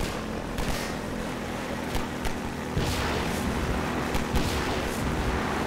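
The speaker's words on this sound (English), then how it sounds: "Oh, rockets." Rockets explode in a Half-Life 2 firefight, a dense wash of booms and blasts layered over sustained loud rumble, with several sharper bursts punching through over a few seconds and no talk.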